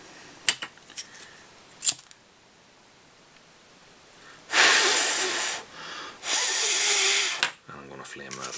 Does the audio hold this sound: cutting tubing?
yes